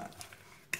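Vegetable ukoy fritters fry in hot oil with a steady soft sizzle and a sharper crackling burst near the end, close and moderately quiet.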